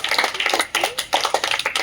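Applause from the audience at a Jai Srimannarayana charitable trust gathering in Aganampudi, Gajuwaka, a dense run of hand claps continuing steadily throughout, fairly close and loud with no talk over it.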